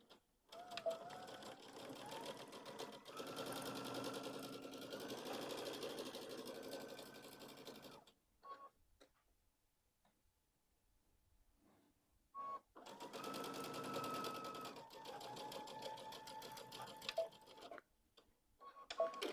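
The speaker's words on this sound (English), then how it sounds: "Let's take it over to the machine and sew those on." A sewing machine stitches a kids' pumpkin pillow in two steady runs of rapid, whirring stitching, broken by a quiet pause in the middle and a short burst at the end.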